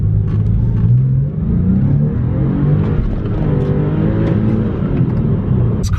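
A rebuilt salvage Porsche 911 engine revs hard and pulls through the gears, loud and close, its growling pitch climbing and settling over several seconds.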